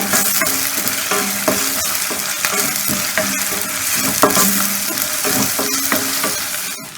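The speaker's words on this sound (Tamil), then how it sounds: "இப்போ பார்த்தீங்கன்னா இந்த இஞ்சி பூண்டும் நல்லா ஃப்ரை ஆகிடுச்சுங்க. வெங்காயமும் கொஞ்சம் நல்லா ஃப்ரை ஆகிடுச்சு." Ginger, garlic and onion frying for a goat blood pepper fry, a steady close sizzle broken by repeated clanks and scrapes of a spoon stirring the pan, with no talking.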